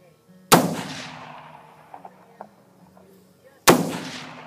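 Two loud, sharp explosive blasts a few seconds apart outdoors at a range, each a sudden crack with a long decaying rumble, with faint small clicks and knocks between them.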